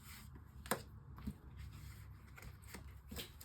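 A deck of tarot cards is shuffled by hand for a five-card reading, producing soft, close riffling and sliding with a couple of sharper snaps, quiet throughout and without speech.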